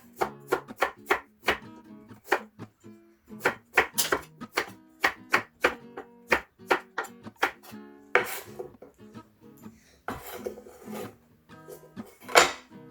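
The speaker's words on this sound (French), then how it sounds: "Je continue en découpant le radis en tranches." A knife chops through radish on a cutting board, cutting it into thin slices while making Thai kuay tiaw kai chicken noodle soup. The chops come close and crisp in quick uneven runs of sharp clacks, with no talk.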